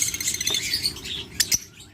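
A pair of pet birds offered for sale chirps and squawks up close, with busy high tweets and a couple of sharp louder calls near the end.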